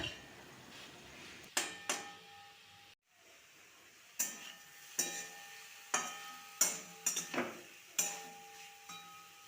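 Water spinach with garlic frying in a pan is stirred, producing a string of sharp, close utensil scrapes and clinks against a faint sizzle, spaced irregularly and fairly quiet, with no voices.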